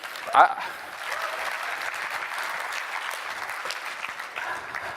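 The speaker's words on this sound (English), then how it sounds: "clap it up, please" Audience applause fills a presentation hall, steady and moderately loud, spreading evenly after a brief sharp burst at the start.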